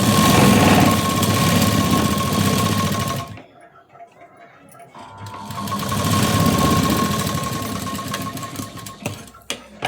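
A domestic sewing machine runs steadily while stitching along the edge of a sleeve, a loud close whirring hum that pauses briefly midway, then resumes and sputters in short bursts toward the end.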